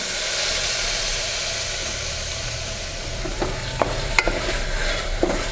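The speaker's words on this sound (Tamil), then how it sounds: "இப்போ இந்த தக்காளி நல்லா வதங்கி குழைய வதங்கி வரணும்" Two medium tomatoes and a few curry leaves sauté in a pan, giving a steady, fairly loud hiss of frying, with a handful of spatula taps and scrapes toward the end.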